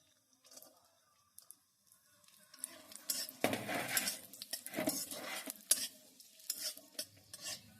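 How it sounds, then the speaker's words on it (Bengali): Raisins frying in ghee in a wok, with soft sizzling and a spoon scraping and stirring in bursts that grow busier partway through, close by with no talking. "কিচমিচ নিয়েছি এগুলো আমি ভেজে নিচ্ছি"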